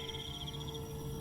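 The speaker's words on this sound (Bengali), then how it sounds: "ঘুটঘুটে অন্ধকার, ঝিঝি পোকা ডাকছে।" Cricket chirps sound through a pitch-dark night in a Bengali horror cartoon, a steady faint high trill pulsing over a low ambient hum, no voices present.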